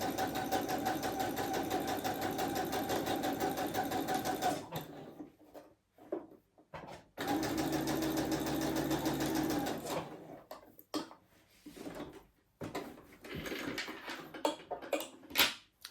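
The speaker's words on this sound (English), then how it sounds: "I'm going to do the gathering stitch here at the top" A home sewing machine runs a long gathering stitch along the top of a gingham dress, a fast close mechanical whir in two long runs, then stops with short bursts and handling clicks.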